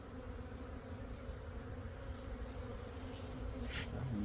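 Continuous soft drone of honeybees swarming a hive frame in a backyard apiary, with a couple of faint higher chirps near the end and no talking.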